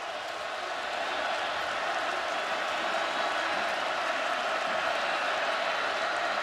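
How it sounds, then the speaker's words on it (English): Steady roar of a football stadium crowd at an Ohio State Buckeyes versus UCF college game, building slightly after the first second and then holding as a dense, continuous wash of noise. "the crowd now starting to make some noise"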